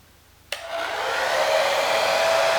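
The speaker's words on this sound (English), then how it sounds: "Grab your handy hair dryer." A hair dryer clicks on and blows with a steady, close whirring roar that holds for a few seconds, warming amber tint on a 2019 Mustang GT Premium headlight corner.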